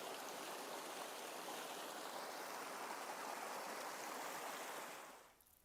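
Creek water flows in a continuous, soft rushing babble, faint and even, then fades out just before the end.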